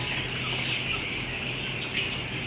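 Fifteen-day-old farm chickens clucking and murmuring in a flock, a steady mix of soft calls over constant background noise, moderately close.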